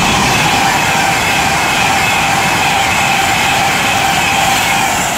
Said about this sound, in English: it's a Pendolino to London